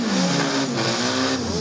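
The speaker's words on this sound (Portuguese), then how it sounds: "nós estamos acelerando ao lado do Corpão, do terceiro da empresa." Race cars accelerating hard at a street drag-racing event in Guaporé, RS, a loud, steady engine roar with rising pitch and a brief tire-squeal edge, close by, running throughout with no voices.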